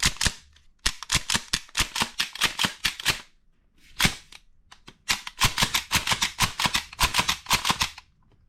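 Pumping a Jag Arms M870 airsoft shotgun gives bursts of rapid, crisp plastic-and-metal clacks, loud and close, in two long runs split by a short pause.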